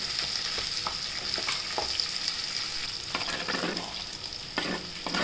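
Onion with asafoetida, turmeric and salt sautéing in oil for methi dal, a continuous close sizzle broken by a few scraping stirs of a spoon in the pan, no voices.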